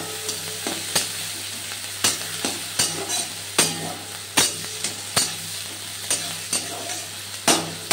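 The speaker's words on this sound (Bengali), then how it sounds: "সুন্দর করে তেলে নাড়ছি।" Chopped onions, onion paste and tomato frying in oil, stirred in a steady rhythm of sharp, regular spatula knocks against the pan over a continuous sizzle.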